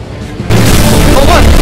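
A rocket explosion in the video game Fortnite bursts in loud and sudden, a dense roaring boom that fills the short moment after a quieter lead-in.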